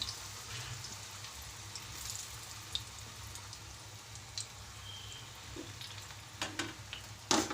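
Papaya French fries frying in hot oil, a soft, even bubbling sizzle heard close and quiet, with a few brief clicks and knocks near the end.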